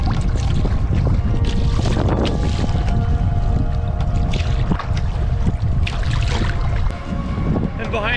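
A kayak paddled alone on a lake in gusty wind, on a rainy solo camping trip in Algonquin Park; steady loud wind and water noise fill the whole stretch, with occasional splashes and knocks.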